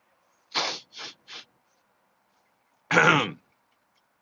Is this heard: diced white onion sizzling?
no